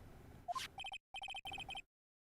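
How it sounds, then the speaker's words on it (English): Cell phone ringtone in the Ace Attorney: Trials and Tribulations game, a rising chirp followed by three bursts of rapid electronic beeping, each burst a quick pulsing trill, crisp and alone. "Hey, Nick, your cell phone is ringing."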